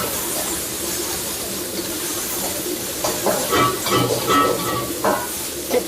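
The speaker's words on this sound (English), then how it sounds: "I'm gonna put a little bit of the water for the steam." Water splashed into a hot pan of stir-fried vegetables for tofu over fried rice hisses and sizzles, starting quietly and swelling into louder crackling bursts with stirring scrapes in the middle.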